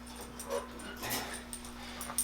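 Dog making soft, faint whimpering and yipping sounds nearby over a steady electrical hum, with a few brief rustles and no talking.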